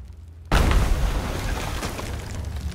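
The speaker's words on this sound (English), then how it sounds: "we got gunpowder barrel, middle of the bottom deck, and fire." In Sea of Thieves, a gunpowder barrel bursts on the bottom deck of a brigantine. A sudden loud, deep boom with a heavy rumbling tail fills the rest of the clip.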